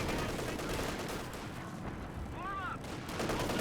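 Machine gun fire from a garrisoned house in Company of Heroes 2, a steady dense rattle of automatic bursts filling the clip amid other battle noise, with a brief whistling tone near the end.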